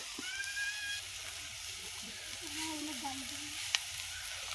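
Onion and spices fry in oil in a pan, giving a soft, steady sizzle with faint stirring scrapes and a small clink near the end, quiet and close.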